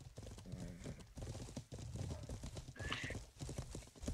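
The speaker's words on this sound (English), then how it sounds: "Get off that fucking horse" Horse hooves clip-clop in a video game, with a brief whinny partway through, all under constant overlapping talk and background game noise.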